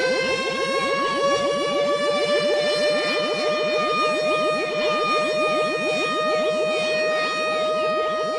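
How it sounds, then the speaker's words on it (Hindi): A warning siren sounds continuously, a steady buzzing harmonic tone that rises slightly in pitch, loud and unbroken. "ये उनका चेतावनी सायरन है"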